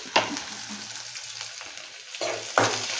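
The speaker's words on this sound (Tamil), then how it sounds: "நல்லா வதக்கி விட்டுக்கோங்க." Onion, green chilli, fennel seeds and curry leaves sauté in hot oil in a pan, a steady close sizzle with spoon stirring scrapes and two louder bursts of frying.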